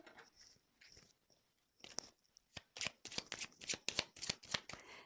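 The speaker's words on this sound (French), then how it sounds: "je vais prendre d'autres cartes." Tarot-style cards being shuffled and drawn for a reading: a close, crisp run of rapid riffling and flicking snaps, sparse at first and then quickening into a dense rhythmic burst, with no talk.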